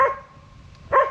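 Dogs barking outdoors near a tree stand during a Missouri hunting weekend, two short sharp barks about a second apart, moderately distant, with quiet between them.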